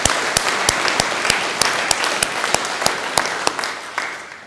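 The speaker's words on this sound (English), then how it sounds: "give her a round of applause, please" An audience at a political speaking event claps in a steady burst of applause, with sharp rhythmic claps standing out over a broad wash of clapping that continues throughout.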